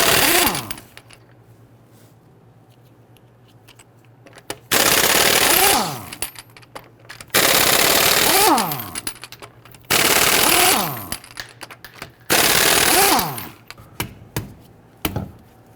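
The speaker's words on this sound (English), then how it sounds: "Using a 22mm socket, loosen and remove the lug nuts." Impact wrench spinning off lug nuts on a Dodge Charger rear wheel with a 22mm socket, in four loud rattling bursts of about a second each, separated by pauses, the tool's hammering whir rising and falling with each nut.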